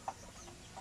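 A chicken, a loud-crowing rooster, gives one short, faint cluck near the start, with a softer call at the very end over a quiet background.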